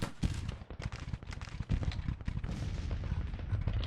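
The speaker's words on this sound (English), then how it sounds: "These cannons are firing with the counter battery fire." Cannon fire from a Civil War battle in Grand Tactician, heard as dense, overlapping booms and rumbling blasts that keep coming without a break, loud and close, with gunfire mixed through the whole stretch.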